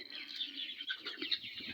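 Farm chickens peck and feed, giving off soft, continuous chirps and clucks close by, a gentle busy chatter with no talking.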